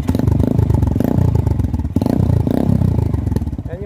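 Honda XR150 motorcycle on its stock muffler, close and loud, with a steady thumping single-cylinder idle that swells into brief revs, a short dip in the middle, and mechanical clatter throughout.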